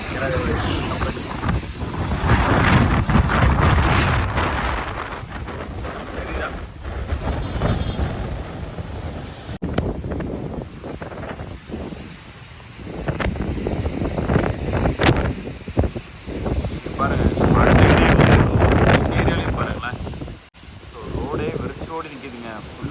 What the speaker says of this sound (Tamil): அடி காற்று பயங்கரமாக அடிச்சு வச்சுருக்கு.